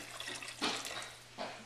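Hot water poured from a kettle into a stew pot of beef gives a faint, splashy gush that comes in a couple of short surges, with no talking.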